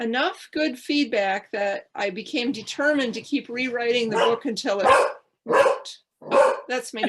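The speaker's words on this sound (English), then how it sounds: "So I imagine that my dog is barking at her 2 dogs out in the yard." A dog barks at two other dogs out in a yard, the barking sitting underneath a woman's steady, close talking throughout.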